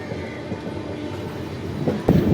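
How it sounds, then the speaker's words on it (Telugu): Ratnachal Express superfast train between Visakhapatnam and Vijayawada heard from inside a coach: a steady rumbling roll of wheels on rails with a sharp clank near the end. "ప్రజెంట్ విశాఖపట్నం నుంచి విజయవాడ వెళ్ళే రత్నాచల్ ఎక్స్ప్రెస్ సూపర్ ఫాస్ట్."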